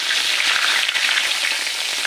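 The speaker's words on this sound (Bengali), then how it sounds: "ওই তেলটার মধ্যে দিয়ে দিচ্ছি দুটো তেজপাতা" Bay leaves frying in hot oil left in a wok after fish heads were fried, a steady, loud, close sizzle and crackle with no speech.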